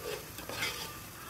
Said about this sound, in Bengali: কালিয়ার মশলা কষানো হচ্ছে